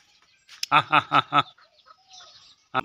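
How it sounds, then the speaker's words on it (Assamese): Chickens cluck in a quick run of four close, loud clucks, followed by quieter background sounds and one more sharp cluck at the end. "সেইবিলাক মুৰ্গী সেইবিলাক চৰি আছে এতিয়া"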